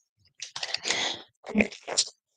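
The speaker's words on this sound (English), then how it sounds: "let's get a couple more shuffles" Tarot cards are shuffled up close in a few short bursts of crisp riffling and slapping, with quiet gaps between the bursts.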